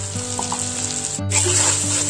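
Puti fish fries in a pan with salt and turmeric, giving a steady close sizzle and hiss with a brief break partway through and a low hum underneath.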